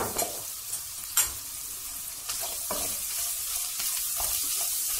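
Cauliflower for moussaka is fried with cumin, black pepper and chili flakes, giving a continuous sizzle with a few sharp scraping stirs of a spoon against the pan, with no talk.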